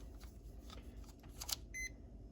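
A multimeter set to continuity gives one short, clear beep while testing a lamp from an RV fireplace, heard over a quiet background with faint handling noise.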